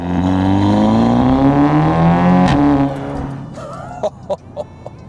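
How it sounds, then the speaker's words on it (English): A tuned Audi S3 with a four-cylinder engine, upgraded decat downpipe and RS3 exhaust revs hard and loud close by, the pitch climbing under load before dropping off, followed by a few sharp pops and crackles. "with this 4-cylinder engine and the upgrades that he's had done to it, it almost sounds like an RS3. Listen to this."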